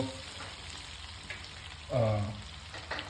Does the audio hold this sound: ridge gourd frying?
yes